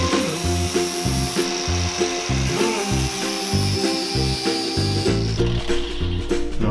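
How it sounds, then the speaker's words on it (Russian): A power tool turns down cast polyurethane skateboard wheels, grinding and whirring loudly and steadily with a rhythmic pulsing as the wheels are shaped round and small defects are removed, with no talk. "сейчас мы немножко их проточим, чтобы они были покруглее"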